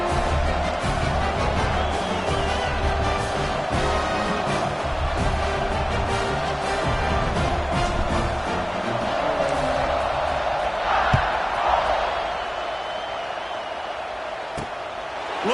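A stadium crowd cheers and roars throughout a kickoff in an NCAA college football video game, a dense, steady wall of noise with scattered whoops and swells, under a commentator's voice.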